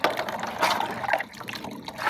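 Water from a home water supply runs steadily, a continuous splashing gush that stays fairly close and even throughout with no talking over it.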